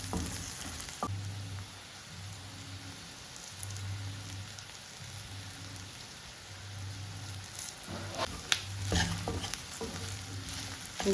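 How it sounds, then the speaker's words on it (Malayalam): Cumin and black pepper frying in a pan with garam masala for kadala curry, a quiet, rain-like crackling sizzle with a low pulsing hum and a few sharp stirring taps later. "1/2 ടീസ്പൂൺ ജീരകം, 1 ടീസ്പൂൺ കുരുമുളക്. നന്നായി ഒന്ന് ഫ്രൈ ചെയ്യുക."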